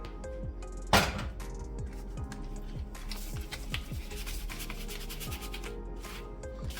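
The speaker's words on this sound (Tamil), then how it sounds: "இந்த சல்லடையில் போட்டு நம்ம சலிச்சுக்கலாம்." Roasted gram powder, freshly ground in a mixer, is sifted through a sieve for murukku, making a steady rhythmic rubbing and scraping with light clinks, close by and continuous, with no talking.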